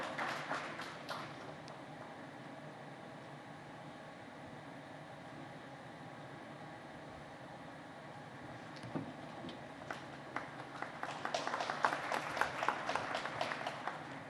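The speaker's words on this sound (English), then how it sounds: "A big round of applause, ladies and gentlemen" Audience applause at a conference session on coffee consumption, starting as a faint, distant patter, then swelling into a livelier round of clapping near the end.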